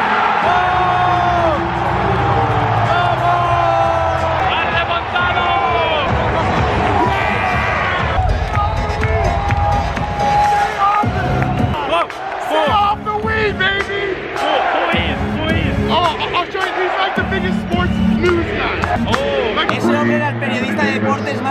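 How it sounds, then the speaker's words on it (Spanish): A packed NBA basketball arena crowd roars, cheers and shouts continuously at full volume, with excited voices shouting close by over the din. "¡Se cae el estadio! ¡Ahora sí que está gritando la gente!"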